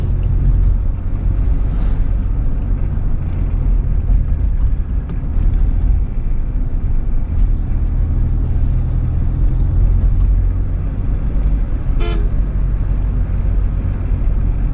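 A Mahindra Scorpio SUV engine pulls hard under acceleration, a heavy, steady low rumble with road and wind noise that stays loud and unbroken throughout, with no talking.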